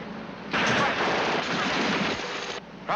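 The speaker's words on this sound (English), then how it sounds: "machine gun, left" Machine gun fire in a 1951 war film about tanks, a dense burst of rapid shots lasting about two seconds, loud and close, with another burst starting at the end.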